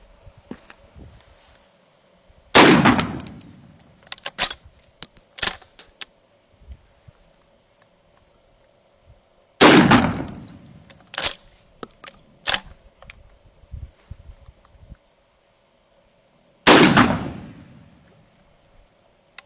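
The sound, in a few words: shotgun firing exotic ammunition rounds at targets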